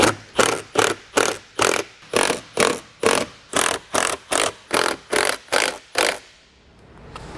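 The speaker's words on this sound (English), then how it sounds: "we're just going to go ahead and run those bolts back down" Bolts on the engine air filter box of a 2022 Ram 3500 being run down with a power tool in thirteen rapid, evenly spaced loud bursts, close up, followed by quiet.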